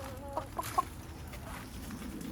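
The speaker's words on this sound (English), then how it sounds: "She's a Barnavilda chicken, and she's still laying this year." A Barnevelder hen clucking nearby in a backyard garden, a few short, soft clucks in quick succession over steady outdoor background noise.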